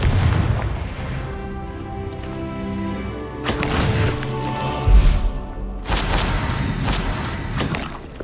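Explosive Confringo spell blasts in Hogwarts Legacy, a booming burst over busy game music and effects, with another heavy impact around the middle and further crackling blasts later.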